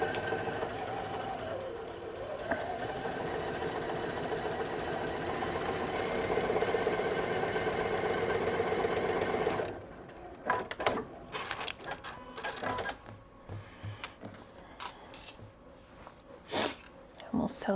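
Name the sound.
Juki semi-industrial sewing machine stitching quilt blocks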